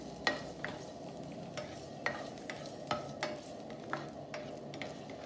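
Garlic sautéing in a pan for pinakbet, with a faint background sizzle broken by a series of sharp spatula taps and scrapes at irregular intervals.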